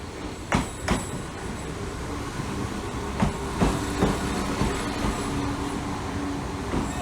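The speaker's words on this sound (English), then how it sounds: "Train feels like it's going to fall apart." A train carriage rattles and rumbles steadily, with irregular clunks and knocks from the wheels and body, heard from inside.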